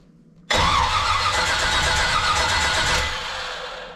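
The engine of a 1966 Corvette C2 coupe barn find, sitting for years, cranks over abruptly and loudly after a quiet moment, with a steady pulsing starter churn that eases slightly near the end.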